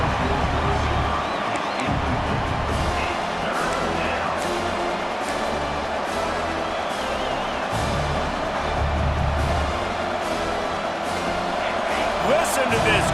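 A large stadium crowd roars steadily in the video game EA Sports College Football 26, a dense wall of cheering with some rhythmic thumps, while a commentator talks over it.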